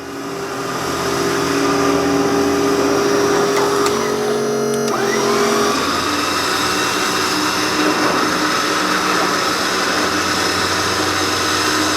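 Winch pulling a bin out of a utility trailer, a steady, loud motorized whine and hum running nearly the whole time, with a brief dip and shift in pitch midway as the load moves.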